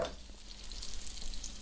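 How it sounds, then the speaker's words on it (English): Crab cakes frying in a pan make a faint, steady sizzle and crackle that holds evenly throughout, with no speech. "let's get back to frying those crab cakes."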